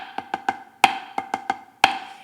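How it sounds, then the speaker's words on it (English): Snare drum flam accent rudiment, played alone: sharp struck notes in a repeating triplet-like pattern, each group led by a louder flammed accent, close and clear with no talking. "we're going to take that flam accent pattern"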